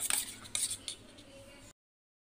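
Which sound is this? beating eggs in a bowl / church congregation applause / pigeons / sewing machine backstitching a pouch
beating eggs in a bowl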